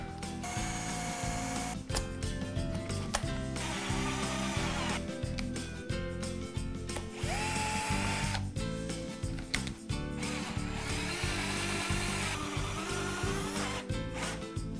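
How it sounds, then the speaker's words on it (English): A 20V cordless drill whirs in repeated short bursts, starting and stopping as it pre-drills a hole, close and loud with no talking. "change to my drill bit, and pre-drill my next hole."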